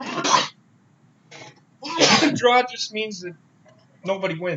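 A sudden sneeze bursts out once near the start, followed by a quieter catch, amid ongoing talk between wrestling commentators during a live WWE Monday Night Raw broadcast.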